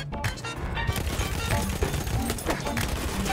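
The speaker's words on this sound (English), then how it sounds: "He's got an auto-loading gun?" An auto-loading gun fires in a Battlefield 1 multiplayer match, rapid cracking shots with crashing impacts running throughout, loud and dense with little pause.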